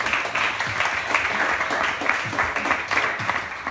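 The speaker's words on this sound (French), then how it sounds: "Je pense que ça peut s'applaudir là" A small group applauds inside an office during a live freestyle football session, giving steady, close clapping with a few louder individual claps and light background noise throughout.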